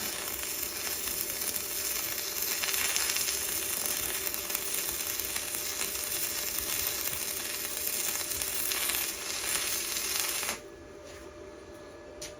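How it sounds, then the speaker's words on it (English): Stick welding on a Lincoln Arc Captain gives a steady, loud, close crackling sizzle that runs without a break for about ten seconds, then cuts off to quieter background hiss. "So I changed to the stick welder on the Arc Captain, and this is so amazing"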